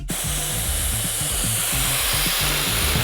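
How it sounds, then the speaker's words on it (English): A LEGO Tesla turbine spinning up, producing a loud, steady rushing hiss of air with a repeating low mechanical pulsing beneath, close and continuous throughout. "Here we have our Tesla turbine."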